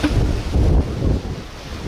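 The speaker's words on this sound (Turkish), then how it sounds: "Çünkü şu an çok rüzgarlı." Strong wind at the seaside buffets the microphone in heavy low rumbling gusts, with a broad rushing hiss of waves behind it. No voices.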